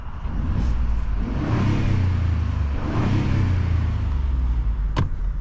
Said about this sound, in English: And if you really want to hear how this exhaust sounds,